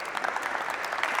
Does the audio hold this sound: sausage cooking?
no